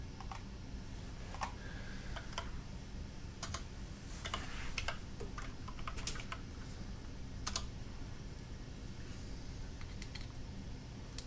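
Scattered keystrokes on a prototype mechanical keyboard, an LJD87up 1up TKL, being tested: sharp clacky clicks come in irregular bursts over a low steady background hum, fairly close and moderately loud.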